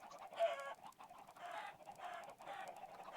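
Minecraft 1.5 chicken farm: game chickens cluck in repeated short bursts, a steady rhythm of overlapping clucks at low volume with no talking.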